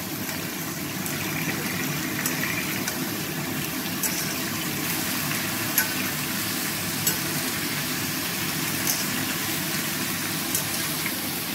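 Salted mixed vegetables fry in a pan with a soft, continuous sizzle, faint and steady, with occasional light ticks and pops scattered through and no talking.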